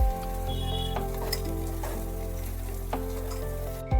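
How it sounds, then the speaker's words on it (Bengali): Cauliflower pakora fries in a pan of oil with a steady, dense sizzle that runs close and loud throughout, joined by a few soft clinks near the end. "এইভাবে এক এক করে কিন্তু সমস্ত কপিগুলোকে ভেজে নিতে হবে আগে"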